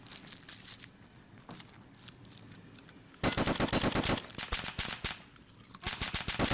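Rapid bursts of automatic gunfire from an Escape from Tarkov match, loud and dense, with a scattered opening and then a heavy sustained volley in the second half, crisp cracks stacking into fusillades.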